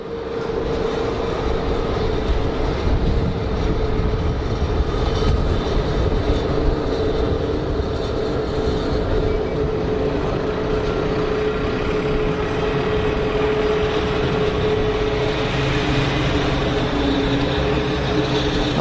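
An inbound Airbus A321neo jet coming in at Geneva Airport gives a loud, steady engine roar with a sustained whine, holding constant and close for the whole stretch with no talking.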